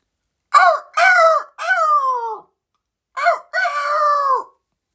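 A person vocally imitating a rooster crowing, close and loud, delivering several strained, falling cock-a-doodle-doo calls in bursts with a short pause between phrases.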